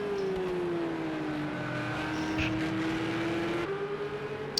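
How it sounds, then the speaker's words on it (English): Porsche flat-six and Bentley twin-turbo V8 GT3 race cars at Fuji GP Circuit in a racing video game give off a steady, fairly faint engine drone that holds a nearly constant pitch throughout. "Porsche vs Bentley. Flat 6 versus V8 twin turbo in the Bentley."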